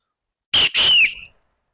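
A single sharp whistle blast, loud and close, in two quick bursts: a short chirp then a longer sustained tone that tails off, alone in silence.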